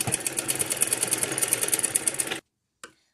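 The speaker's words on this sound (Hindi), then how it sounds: "तो इस तरीके से इसे सिल लेंगे अच्छे से" A sewing machine stitches baby top fabric with fast, close, rhythmic mechanical chattering, then stops abruptly, followed by a single brief knock.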